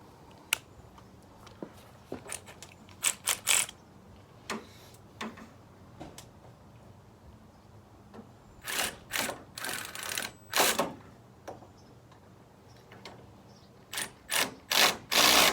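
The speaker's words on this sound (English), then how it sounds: "So now I can put it on my electric ratchet." Electric ratchet whirring in short bursts while loosening a radiator hose bolt on a 1993 Ford Bronco, a series of brief close ratcheting runs separated by pauses, with clusters of rapid back-to-back bursts later on.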